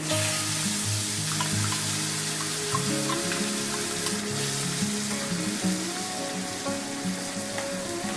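Whole cardamom, cinnamon and onion paste fry in hot oil, with a loud, bright, crackling sizzle that runs steadily throughout, plus a few faint clinks of a utensil.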